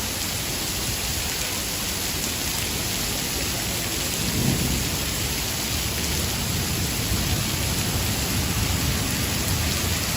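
Heavy rain pours steadily over Manhattan during Hurricane Elsa on a Friday night, a dense constant roar of downpour with a low rumble of thunder swelling briefly midway, no voices.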